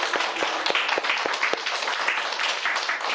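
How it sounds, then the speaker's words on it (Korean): A church congregation applauds to welcome two missionaries to Vietnam, a dense, lively round of many hands clapping close by, with several sharp individual claps standing out near the start. "우리 두 분 환영의 박수 하셨습니다"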